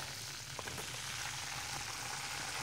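Pieces of bird meat fry in hot oil, a dense, steady sizzle and crackle heard close up with no voices.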